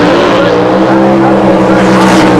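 A Rover Sterling drag car launches off the start line at Santa Pod Raceway's 1990 Mayday meeting, a loud, close engine roar with a steady buzzing drone under excited commentary.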